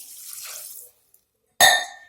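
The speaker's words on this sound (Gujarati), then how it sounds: "પાણી એડ કરીશ" A short burst of water poured into a metal cooking pot, brief and fairly loud after a quiet gap, preceded by a softer hiss.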